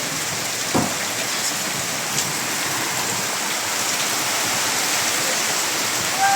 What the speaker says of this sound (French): T'es content là, il y a de la pluie hein.